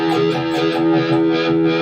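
A guitar played through the wah block of a Fractal AX8 processor, sustained distorted tone with a slow sweeping vocal-like filter movement, loud and alone.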